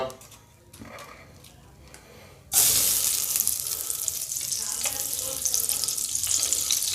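Butter hits a hot pan on a gas stove set low, a sudden loud sizzle that cuts in midway and keeps crackling steadily, following a quieter stretch with faint kitchen clatter.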